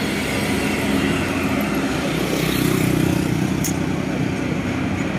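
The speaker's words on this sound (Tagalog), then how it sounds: "Kaya sobrang bilis at sobrang tuloy ng mga sasakyan dito." Cars and motorcycles speed down a steep downhill road, a steady close traffic rumble with one vehicle surging past in the middle, no voices.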